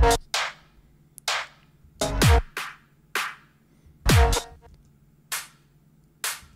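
Hi-hat hits in a UK bassline track, with the low end removed by EQ, come as short bright ticks in a loose pattern, alternating with heavier mixed drum hits and a low bass hum.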